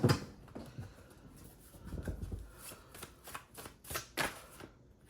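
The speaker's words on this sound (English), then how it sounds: "Let's get some message cards." Message cards are shuffled by hand for a card reading, a soft riffling and rubbing that comes in uneven bursts, close and fairly quiet, with no voices.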